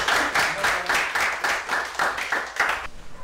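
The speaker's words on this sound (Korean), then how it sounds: "박수 한번 치고 시작할까요?" A group of people clap their hands together in steady rhythmic bursts, about eight strong beats in three seconds, loud and close at a school gathering.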